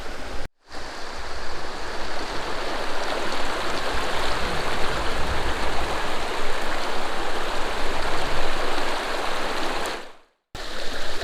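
Fast-flowing river water in Garvagh, Northern Ireland rushes in a steady, loud, broadband roar, close and continuous, briefly cut at the start and near the end.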